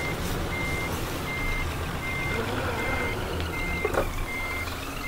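Truck reversing alarm in the Scania Truck Driving Simulator game, a steady series of evenly spaced electronic beeps over a constant engine rumble, with a brief clunk near the end.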